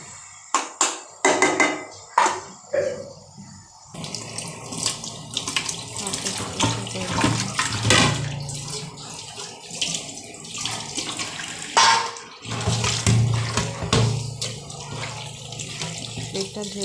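A plate being washed under a running tap, splashing water with intermittent clinks and knocks of crockery against the sink, close and fairly loud throughout.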